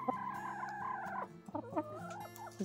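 Chickens in a winter coop in the deep cold of off-grid Canada cluck and make warbling calls. The calls are soft and fairly near, come in a few quick phrases and are heard without talk.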